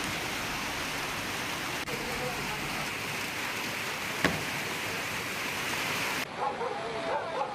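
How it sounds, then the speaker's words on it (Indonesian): Torrential flash-flood water rushing into a residential area of Tapanuli Tengah, Indonesia: a loud, continuous roaring wash of water that cuts off near the end, where faint voices are heard. "Arus deras langsung menghantam permukiman warga di Kecamatan Tuka"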